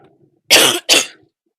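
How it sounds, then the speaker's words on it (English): Two sharp, close coughs in quick succession, loud and clear against an otherwise quiet background. "I'm coughing into there."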